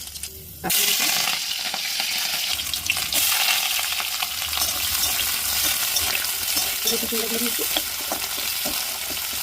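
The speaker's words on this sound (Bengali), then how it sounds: "তারপরে এর মধ্যে কালো জিরা দিয়ে চিচিঙ্গাটাকে ছেড়ে দেবো" Snake gourd with black cumin seeds hits hot oil in a wok. A loud, steady sizzle bursts in abruptly and continues throughout, with occasional stirring scrapes.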